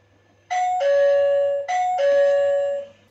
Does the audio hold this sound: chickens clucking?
no